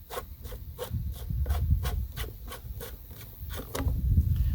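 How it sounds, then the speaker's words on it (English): The top of an above-ground pool pump hose is unscrewed by hand, giving a steady rhythmic rasping, with about a dozen even scraping turns over a low rumble, close up, with no talk. "I'm going to just unscrew the top of this hose."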